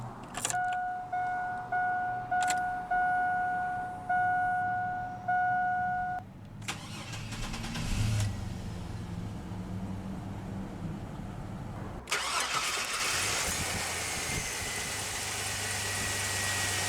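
Inside a 2003 Chevrolet S-10 LS extended-cab pickup, door chimes ring steadily, then the 4.3-liter Vortec V6 cranks briefly, catches and settles into a low idle, followed by a loud steady whoosh of blower air.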